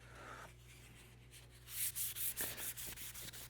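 Light wet sanding on the aileron of a giant-scale P-51D model airplane, quiet at first, then a run of close, rhythmic rubbing strokes with a soft, gritty hiss.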